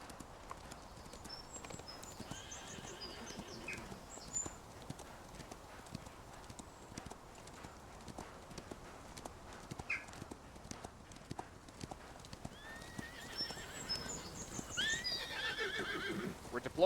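Steady clip-clop of horse hooves throughout, with a horse whinnying partway through amid a busy soundscape and occasional faint voices, during a cavalry drill in the Civil War video game War of Rights.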